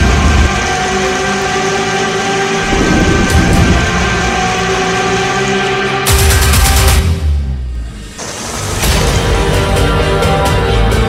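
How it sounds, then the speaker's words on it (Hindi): A train moves through waterlogged tracks during heavy monsoon rain in Mumbai. The loud, steady rumble of the rail cars runs over the noise of the downpour, briefly dipping near the end before it swells again. "आप देखिए कि रेलगाड़ी जा रही है और कितना पानी वहां पर भरा हुआ है।"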